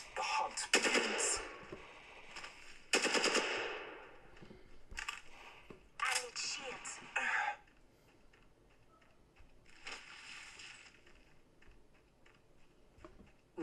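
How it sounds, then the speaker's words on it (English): Gunfire in the mobile game Apex Legends Mobile: several bursts of rapid shots in the first half, loud and crackling, then fainter scattered shots and game effects. "Opening fire on the enemy."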